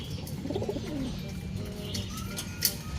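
Soft cooing from racing pigeons, a low warbling call near the start, over a noisy background with faint chirps and a brief knock.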